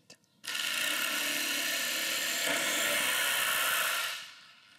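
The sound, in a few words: Festool Carvex PS 420 jigsaw starting and running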